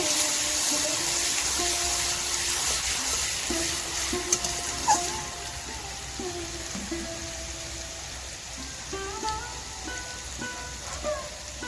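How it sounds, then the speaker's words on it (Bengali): Garlic paste frying in hot mustard oil, with a steady broadband sizzle and scattered clinks of a spatula stirring in the pan, close and continuous, with no talk. "তেলটা গরম হয়ে গেলে দিয়ে দিব রসুন বাটা, দিয়ে ভালো করে লাল লাল করে ভেজে নেব।"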